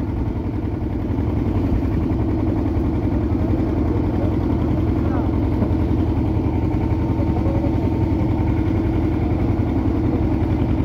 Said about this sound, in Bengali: এবার বাইক স্টার্ট করবো আর ডাইরেক্ট 50 কিলোমিটার রাস্তা।